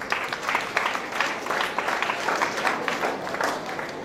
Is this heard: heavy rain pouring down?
no